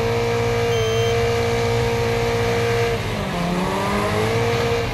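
Bulldog car in the Wreckfest racing game on the Bonebreaker Valley track, its engine holding a steady, loud droning whine throughout, with the pitch dipping and climbing again partway through.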